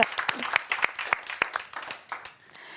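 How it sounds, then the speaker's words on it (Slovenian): Audience applause at a business award ceremony, a short burst of scattered individual claps that thins out and fades over a few seconds, with no talking. "En aplavz."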